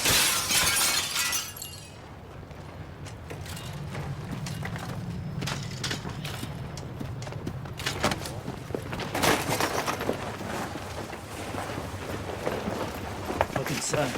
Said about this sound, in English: he throws a rock and smashes this house window